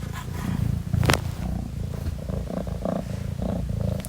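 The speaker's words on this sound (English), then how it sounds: "You could probably hear her purring" A pet cat named Andromeda purrs loudly and steadily up close, a low continuous rumbling purr with one brief sharper noise near the start and no talking.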